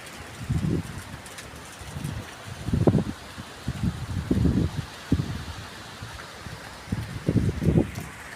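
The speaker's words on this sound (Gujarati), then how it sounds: "આજ તો વહેલી સવારથી ધોધમાર વરસાદ ચાલુ થઈ ગયો" A steady hiss of heavy morning rain with thunder and lightning, with repeated low gusts of wind buffeting in bursts, fairly loud and continuous.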